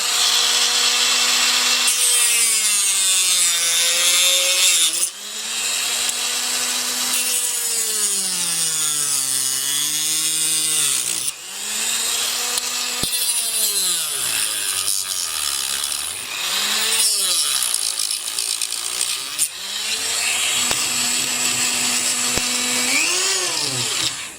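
A rotary cutting wheel grinds through the plastic body of a 1/18 scale DMC Huracan model car, a loud whining buzz whose pitch sags and rises as the load changes, with several brief pauses between passes.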